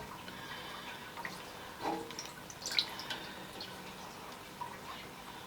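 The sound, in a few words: melted beeswax dripping from dipped cloth wrap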